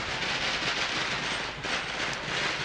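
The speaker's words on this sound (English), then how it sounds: "hear more firecrackers behind us" Firecrackers crackle in a dense, continuous far-off roll during a Chinatown Lunar New Year parade in Vancouver, a steady wash of pops with no talking over it.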